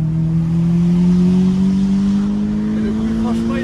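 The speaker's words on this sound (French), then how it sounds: "il est très très beau le bruit. L'Atmo, quand il monte dans les tours" A Toyota GT86 with its 200 hp naturally aspirated engine and rear-wheel drive revs steadily upward while climbing past a cliff. The engine note is loud and close, rising smoothly in pitch throughout.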